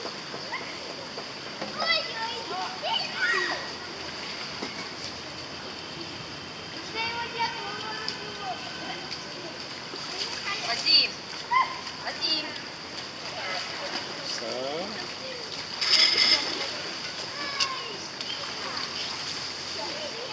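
Children splash and play in water at a busy outdoor spot in Vietnam. Faint, scattered splashes and kids' voices carry from a distance under steady chatter nearby and a thin high whine.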